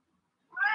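A cat gives a single short, clear meow that starts abruptly after a moment of near silence.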